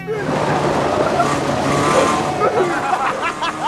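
A banger racing car spins out mid-race while chasing a rival, its engine roaring steadily with tyre scrubbing and a rising skid toward the end, all under continuous race commentary.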